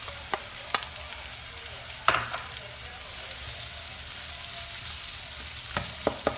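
Marinated beef stir-fries with carrot and celery in a pan, a steady moderate sizzle punctuated by a few scattered utensil knocks and scrapes, with no talking.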